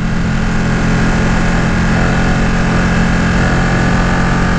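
A Ducati Panigale 959 motorcycle's engine drones with a continuous, loud roar while the bike rides on the street, heard close and alone.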